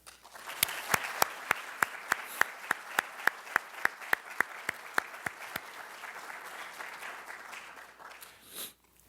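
Audience applause at a talk on opera and design, a few distinct loud claps in a regular beat standing out over lighter scattered clapping that thins out toward the end.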